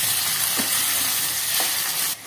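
Steady sizzling of onions frying in a hot pan, with faint stirring scrapes, close and continuous before cutting off.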